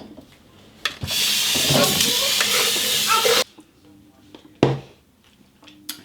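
Tap water runs in a strong, steady hissing rush for about two seconds while something is rinsed, then cuts off abruptly, followed by a few scattered clunks and a sharp knock nearby.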